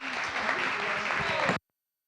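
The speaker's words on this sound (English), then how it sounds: "Let's give her a round of applause." A council meeting audience claps politely for about a second and a half, moderate and even, before cutting off abruptly to silence.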